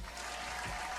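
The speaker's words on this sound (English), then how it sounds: "Let's clap it up for Bernice King" Brief, steady wash of audience applause on a talk show, dense and even, with no voices over it.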